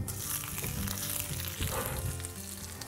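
A handful of onion frying in very hot olive oil in a pan with a wooden handle, giving a loud, dense sizzle with bubbling crackle and a swell of spitting midway, heard close with no talking.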